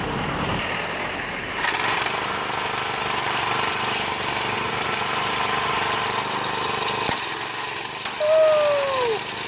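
A pressure washer engine, just fitted with a new thermal sensor, catches and keeps running with a steady mid-pitched drone, a brief click partway through and a short rising whine near the end.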